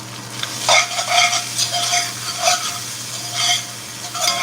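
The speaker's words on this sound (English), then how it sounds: "See how it sort of calmed down a little bit, the sizzle." Chicken stir fry with wheat noodles sizzles in a hot pan while being stirred, with a steady hiss broken by repeated scraping strokes of the utensil, close and loud.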